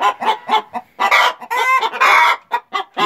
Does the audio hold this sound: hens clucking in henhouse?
yes